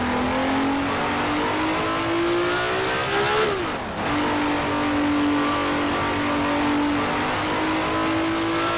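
A Honda RA300 Formula 1 car in the racing game Grand Prix Legends screams at high revs, one loud continuous engine whine that climbs, drops sharply at a gearshift, then rises again.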